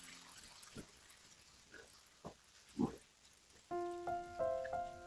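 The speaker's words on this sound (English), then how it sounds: "So I just rinse off the vinegar" Fish being rinsed in a basin of water to wash off vinegar, with soft splashes and sloshing bursts, a few brief dips early, then a louder run of swishing near the end, fairly close and quiet.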